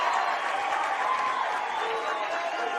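A large crowd at a high school 6A baseball championship game cheers and applauds steadily, a dense, continuous roar of many voices and clapping filling the whole stretch at a fairly loud, even level.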